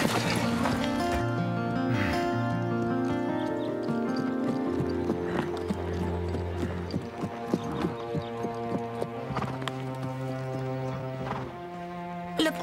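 Horse hooves clip-clop during riding, steady and moderately faint beneath sustained music that dominates throughout.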